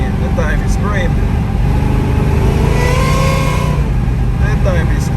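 A supercharged Oldsmobile Cutlass revs hard while being driven, its engine note climbing and falling in loud, steady sweeps with a whining edge from inside the moving car.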